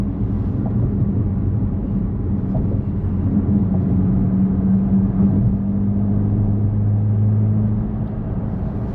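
A Corvette C8 Z06 engine runs steadily with a deep, continuous rumble and a sustained low drone that swells slightly midway, close and loud throughout with no talk over it.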